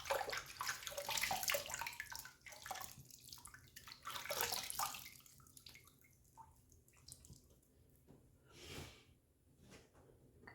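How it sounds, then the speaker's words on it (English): Water running from a bathroom tap for a quick rinse after shaving with a Rockwell 6C safety razor, splashing in bursts that fade and return, close and fairly quiet. "Let's do a quick rinse."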